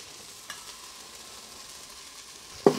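Garlic cooks in an Instant Pot for white turkey chili, giving a soft, low sizzle with a light tap early on and a sharper clatter at the end.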